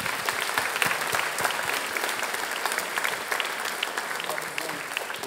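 Steady, full audience applause fills the hall at the Ma thèse en 180 secondes regional final at Université de La Réunion, an even wash of many hands clapping throughout with no break.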